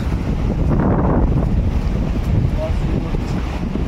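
Sea waves roll in at Mandarmani beach as the tide rises, a broad rushing wash heavy with wind buffeting the microphone, loud and continuous throughout.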